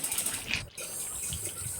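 Water poured into a pot of cooking chicken, a steady close splashing gush with a brief break midway.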